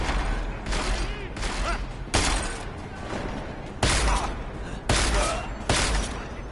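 Video game gunfire from Deus Ex: Mankind Divided: loud bursts of automatic shots arrive in several separate volleys, each opening with a sharp crack, while voices talk underneath.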